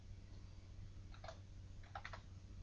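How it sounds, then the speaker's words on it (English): A short burst of typing on a computer keyboard, a few soft clicks followed by a quick cluster of keystrokes, close and faint over a low background hum. "I'm gonna left click in there, and I'm gonna type in S80."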